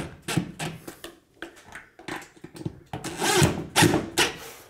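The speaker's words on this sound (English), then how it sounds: "Now that we got it on the screw mount, we'll just tighten her up." Screws being tightened on the wall mount of a ZLINE hood fan during a kitchen install, heard as close, repeated short bursts of tool work and scraping that grow louder and denser toward the end.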